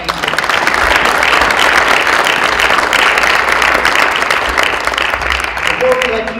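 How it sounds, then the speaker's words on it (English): Audience applause for a panel of speakers at the close of an evening discussion event, a steady, dense wash of clapping that fills the room, with some talk underneath. "Just last round of applause for our speakers."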